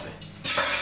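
Potato salad with chopped boiled eggs stirred with a spoon in a bowl, a close scraping mix that turns louder and busier partway through, with no talking.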